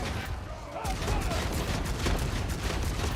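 A bolt gun in Warhammer 40K Darktide fires repeatedly as the magazine is emptied around a corner of enemies, a dense rapid barrage of loud shots with a player talking over it.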